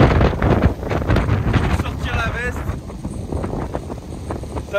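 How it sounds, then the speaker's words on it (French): Strong gusty wind between rain showers buffets the microphone on an outdoor walk, a loud rumbling roar that surges and eases, with a voice partly buried underneath. "il y a un vent de dingue"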